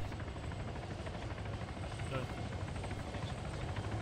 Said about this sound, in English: You might miss the helicopter landing, Womack.